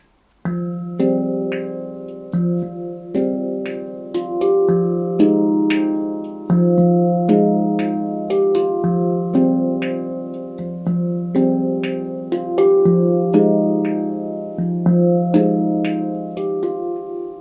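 A handpan in an F low Pygmy scale plays a slow, repeating pattern of ringing metallic notes, each tone sustaining and overlapping the next, with no voices.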